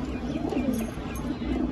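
Pigeons kept for sale, including red and other varieties, give a short burst of soft, throaty cooing. The sound is close and steady, with no speech over it.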